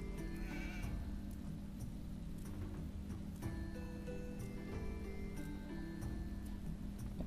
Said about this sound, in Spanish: Esta oveja la vamos a tirar acá para matarla.